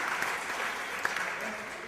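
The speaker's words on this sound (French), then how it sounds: "Vous pouvez les applaudir, s'il vous plaît." Audience applause at an evening Torah lecture in French, a faint, steady patter of many hands clapping with a slight spoken murmur underneath.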